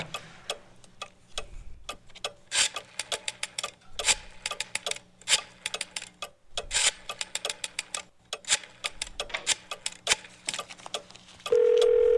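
A telephone call in the video game Gabriel Knight 2 begins with a long run of sharp dialing clicks and taps, some fast and some spaced out, and ends in a steady electronic tone. No one speaks.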